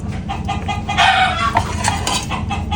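A duck calls in repeated short, raspy bursts nearby, with faint clattering in the background, in a rural Philippine setting.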